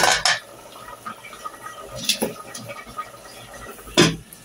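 Pots and utensils clatter while rice and tilapia with pointed gourd cook. A few sharp metallic clanks stand out against a quiet simmering background, close by and without talk.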